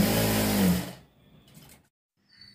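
A sewing machine runs in one loud, steady burst of about a second while stitching the lining and main piece of a long frock near the waist, then stops, leaving near silence.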